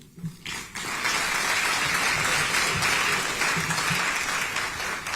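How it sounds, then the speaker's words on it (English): A sustained, dense round of applause fills an awards-night hall for an honoree, steady and loud after a brief quieter moment at the start, with no voices over it. "Ladies and gentlemen, a big round of applause for Nanoye Bampo-Addo"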